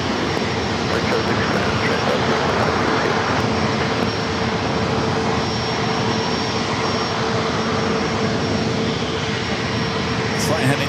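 Airplane departing San Diego airport on a flight to Scottsdale, Arizona, a loud, continuous roar of engine thrust with a steady whine, sustained at full strength throughout.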